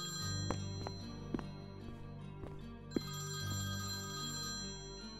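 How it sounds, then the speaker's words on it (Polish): A telephone rings repeatedly in the video game Priest Simulator, with steady bell-like trills repeating at a regular rhythm over a low background hum, no voices. "Odbierz telefon, co?"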